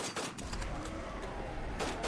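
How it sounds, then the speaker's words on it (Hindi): Horror story gunfire effect with grenades and shots: a dense, continuous volley of gunfire rattling throughout, loud and close with sharp bursts at the start and end. "ग्रेनेड फेंके गए थे, गोलियां चलाई गई थी ताकि वो जो कोई भी है वो मर जाए"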